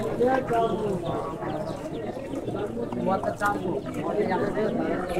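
Racing pigeons, a red-neck grizzle pair, coo at a busy pigeon market, their soft warbling calls mixed with a crowd and people talking nearby.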